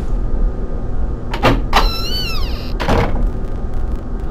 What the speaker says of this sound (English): Another handy elevator.